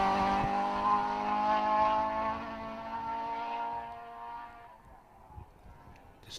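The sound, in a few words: rally car accelerating away on a stage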